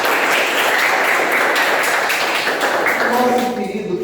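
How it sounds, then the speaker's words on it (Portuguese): Applause from a congregation at a morning church service, a dense wash of many hands clapping steadily and loudly for about three seconds before tapering off. "Uma salva de palmas"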